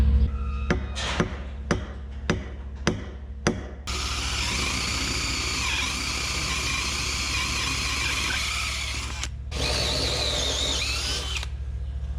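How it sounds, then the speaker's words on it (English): A power drill whirs steadily for several seconds after a run of sharp knocks, pausing briefly before spinning up again, close and loud, drilling holes in wood. "He's drilling bigger holes on the outside so that the nuts kind of sink down into the wood"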